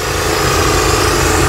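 Compressor engine running at a demolition and clearing site in Manila, a loud steady low rumble with constant vibration throughout, no voices.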